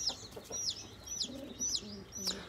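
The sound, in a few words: chicks and rooster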